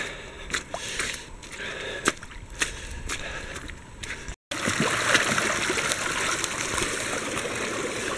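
A small stream runs steadily while mud is rinsed off in it, with sharp splashes and sloshing bursts over continuous flowing, trickling water, then a steadier rush of water near the end.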